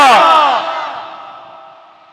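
A crowd at a religious gathering roars in unison in response to the Nara-e-Takbir call, a loud massed shout that starts at full strength and gradually fades over about two seconds.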